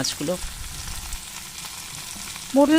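Fried mola fish being stirred into a potato and onion-stalk curry in a pan, giving a steady close sizzle, while a voice talks briefly at the start and end.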